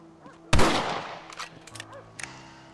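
A single loud, close rifle shot rings out in Red Dead Redemption, followed by a decaying echo and a few fainter distant cracks.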